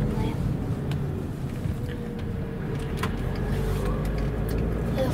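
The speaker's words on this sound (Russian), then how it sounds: "Вау, как он страшно едет, быстро все у него, да?" A car travels fast along a street with a steady low road roar and a few brief higher whooshes as it passes, under scattered talk.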